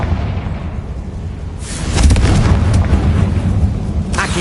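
A Confringo spell blast in a tomb in Hogwarts Legacy, a sudden loud booming burst that swells and rumbles for about two seconds over low ambient drone, followed by a brief sharp crack.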